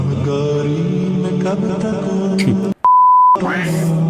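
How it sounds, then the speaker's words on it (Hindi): A phone caller tune plays as a loud musical ringtone with layered melody, cut off by a sharp single steady beep before the music resumes. "My friends caller tune in Ramzan."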